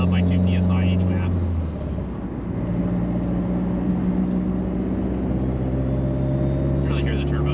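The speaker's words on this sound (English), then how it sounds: "You really hear the turbo, though, when you just..." A tuned 2.0L Subaru WRX running a Garrett G25-660 turbo pulls hard, giving a steady loud engine drone with a high turbo whine and hiss layered on top, heard from inside the car.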